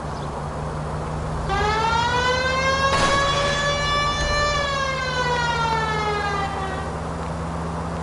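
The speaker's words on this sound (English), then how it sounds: "This seems like a good time for the siren" A police car siren in the video game L.A. Noire wails, rising and falling steadily over a low engine hum, loud and close, fading out toward the end.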